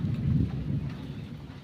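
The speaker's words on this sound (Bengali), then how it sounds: "বৃষ্টি পড়ছে প্রচুর।" Heavy rain falls steadily on a rural home and its vegetable patch in Bengal, a dense, continuous low rushing wash with no break and no voices.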